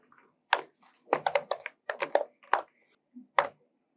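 Someone types on a computer keyboard, a few separate bursts of clicky keystrokes with short pauses between them, close up in a quiet room with no talking.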